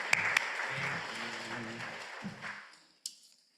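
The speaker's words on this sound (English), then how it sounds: "you can applaud, you can welcome him warmly" A temple congregation at the close of a service breaks into warm applause with a few talking voices mixed in. The clapping thins out and dies away, followed by one last isolated clap.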